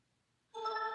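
A telephone bell starts ringing abruptly halfway through, a bright continuous jangling ring after near silence, close and steady.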